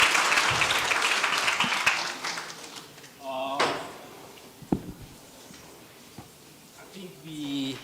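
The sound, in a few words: conference audience applause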